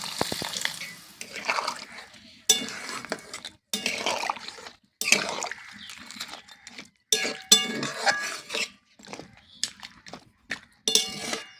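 Water splashing and trickling into a pan of goat meat being fried down into a thick curry in a village kitchen, with intermittent pours, drips and clinks of utensils in a series of short bursts, close and fairly loud.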